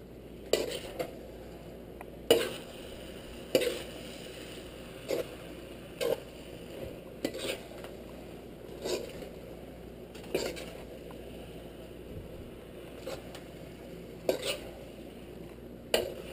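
A utensil scrapes and clinks against a pan while pancit canton with bihon noodles is stirred, soft irregular taps and scrapes every second or so over a low steady background hum, close but fairly quiet.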